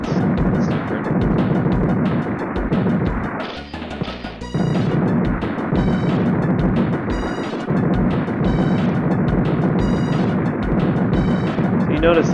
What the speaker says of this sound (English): A lot of explosions at the start.